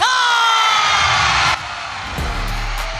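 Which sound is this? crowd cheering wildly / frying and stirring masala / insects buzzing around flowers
crowd cheering wildly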